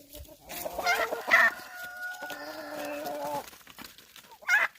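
Chickens being fed greens on a farm, clucking and squawking in short bursts close by, one rising call sounding like a crow.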